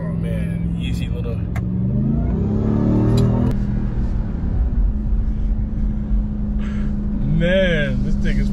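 Supercharged 2021 Ram TRX truck engine revving from inside the cab, a loud rising and falling roar with a steady low rumble underneath, while someone talks over it.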